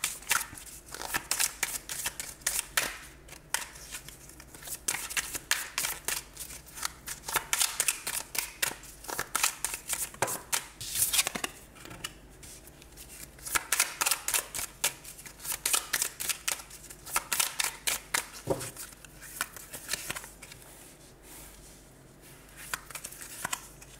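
Tarot cards are shuffled by hand in quick bursts of riffling, crisp papery slaps and flutters. The bursts repeat close up through the whole stretch, with no talking.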